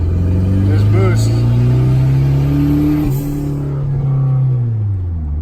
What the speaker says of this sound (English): I'm gonna do a second gear pull